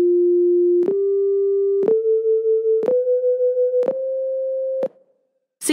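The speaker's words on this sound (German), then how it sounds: "Hier hilft nur, gleichzeitig beide Tonleitern zu hören." A monochord sounds the Pythagorean and equal-tempered scales together, six sustained tones stepping upward about once a second, each beginning with a sharp pluck and pulsing with audible beating between the slightly mistuned pitches, loud and clear with no talk.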